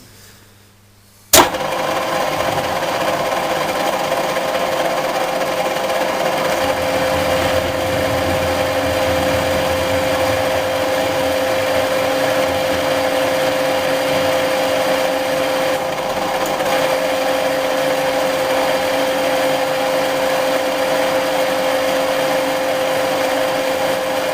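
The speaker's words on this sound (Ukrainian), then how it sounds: "зараз ми робимо циковки, тобто потаї під болт з потайною головкою на вісь." A machine cuts countersinks for countersunk bolts in steel vise jaws: a loud, steady high whine starts abruptly after a quiet moment and holds unbroken for over twenty seconds, close by, with no speech.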